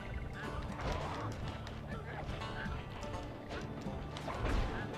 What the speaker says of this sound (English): Stupid ducks.